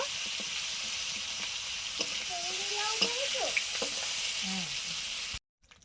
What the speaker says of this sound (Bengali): মাছগুলো ভেজে তুলে নিচ্ছি